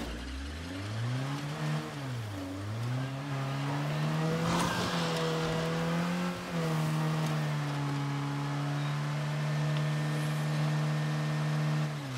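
A video game car engine hums steadily with pitch rising and dipping as it accelerates and eases off, continuous and close with no talking.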